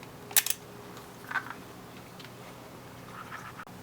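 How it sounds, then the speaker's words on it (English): A single action revolver being cocked gives a few sharp, close metallic clicks early on, followed by fainter handling noises and a quiet room. "The bolt dropped, and then now it's popped back up, making the click."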